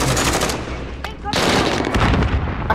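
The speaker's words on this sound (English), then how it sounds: "I'm gonna shoot him down!" Rapid automatic gunfire and loud bursts in the first-person shooter Call of Duty: Modern Warfare, dense sustained firing with a brief lull midway before resuming heavily.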